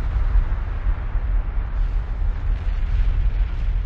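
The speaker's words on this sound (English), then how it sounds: "Oh, the explosions are still happening over here." Dense, continuous rumbling blasts of TNT detonating in Minecraft, a loud low roar that holds steady throughout with no pauses, no voices present.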